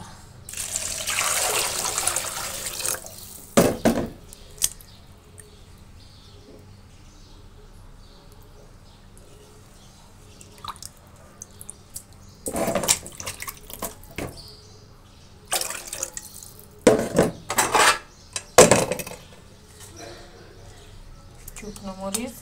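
Water pours into a cooking pot in a rushing, splashing stream for a few seconds, then clinks and clatters of kitchen handling follow while a voice talks over the background.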